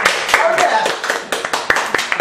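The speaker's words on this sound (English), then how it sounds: "Let's give a round of applause to" Audience applause at a Toastmasters club meeting: a loud burst of scattered claps that thins into irregular individual claps, with murmuring voices mixed in.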